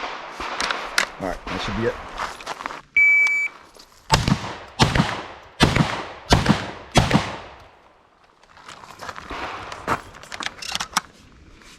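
Shotgun blasts from a Beretta 1301 Tactical or IWI Tavor TS-12, about six sharp, loud reports fired in quick rhythm at the range, with a beep before the string and someone speaking afterward.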